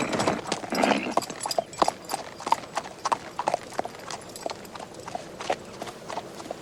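A horse's hooves clip-clop in an uneven, steady rhythm at moderate distance, with brief muffled voices early on.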